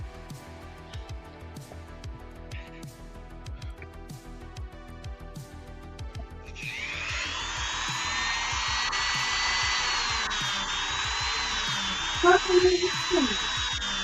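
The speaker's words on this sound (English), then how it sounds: "You're hearing Jared's Dremel." A Dremel rotary tool used for action figure customizing starts up and runs with a steady high-pitched whine, its pitch wavering slightly, heard under ongoing talk.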